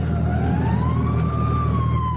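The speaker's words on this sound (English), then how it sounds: "Fire engine?" A fire engine siren wails continuously in a slow rising and falling sweep, loud and steady over a constant low engine rumble, with no talking.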